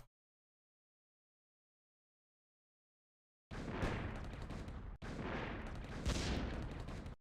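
Artillery bombardment from the Emperor of the Fading Suns strategy game striking a Megatank: after silence, two sustained bursts of loud, rumbling blasts and crackling fire, each lasting a couple of seconds, close and dense.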